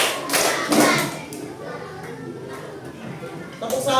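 Class of first-grade schoolchildren clapping hands together in a counting game, several broadband claps in quick bursts near the start and again at the end, with a teacher's voice and children's chatter underneath.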